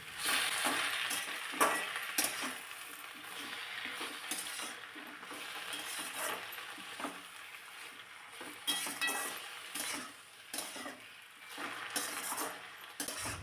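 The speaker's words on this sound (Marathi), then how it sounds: "पुन्हा कांद्यासोबत फुलंसुद्धा थोडा वेळ परतून घ्यायची" Onion and washed hadga flowers are sautéed together in a pan, with a soft, continuous sizzle under repeated spatula scrapes and light clinks against the metal.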